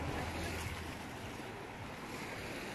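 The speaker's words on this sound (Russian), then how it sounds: "вечернее море." Evening sea waves wash steadily on an Italian shore as a soft, continuous surf hiss with wind noise, fairly faint and without talk.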